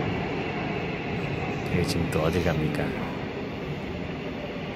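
Riding a subway train in Seongsu, Seoul, on a rainy day, with a steady, loud rumble and hiss of the moving car throughout and a slight swell in the middle, while someone speaks briefly over it.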